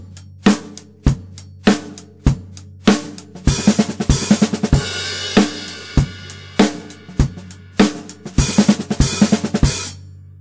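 Steady drum kit groove with a paradiddle-diddle fill moved to an open hi-hat, giving bursts of washy cymbal sizzle between regular kick and snare hits, played alone without voices.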